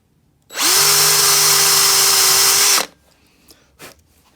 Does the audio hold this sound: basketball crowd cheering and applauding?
no